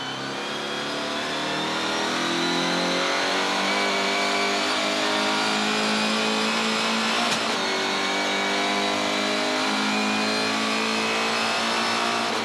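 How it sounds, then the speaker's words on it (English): GTC race cars accelerate hard at Killarney during a 2019 race. A loud, sustained engine note climbs steadily in pitch and holds a full-throttle drone, with one brief sharp transient partway through. "Dogged determination and some serious leaning on the petrol pedal, and Rowe was away"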